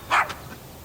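A single short, sharp dog bark sounds at moderate distance, followed by a faint echo-like yip and then quiet room background.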